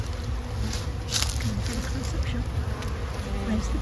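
Honey bees from a package being installed into a hive buzz in a dense, continuous drone close to the listener, with a faint voice underneath.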